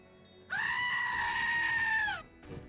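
Person imitating a goat scream: one loud, drawn-out bleating wail held for nearly two seconds, close to the mic, then a brief softer noise after it.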